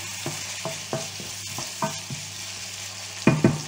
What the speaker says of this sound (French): Allez, on remue.